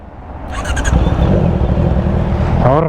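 A motorcycle fitted with an aftermarket Two Brothers exhaust rumbles and revs up loudly close by, a deep throaty roar that swells and holds steady, with a brief high chirp near the end.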